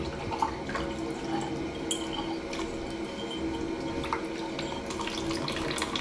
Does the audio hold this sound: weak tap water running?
yes